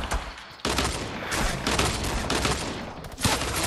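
A minigun roars in a video game firefight, a loud, dense stream of rapid shots running almost continuously after a short gap, with sharp spikes as the bursts intensify.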